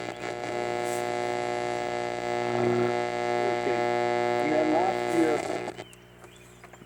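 A steady electrical hum from a vintage radio's filter capacitor, with buzzy harmonics, drones throughout, with faint clicks and shifts near the end as it drops off slightly.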